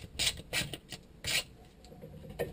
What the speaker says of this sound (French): Un dernier petit coup de ponçage sur le dessus